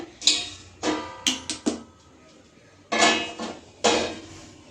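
A steel cooking vessel is picked up and set down on a kitchen counter, giving about six sharp metallic clanks and scrapes in an uneven rhythm, close and clear.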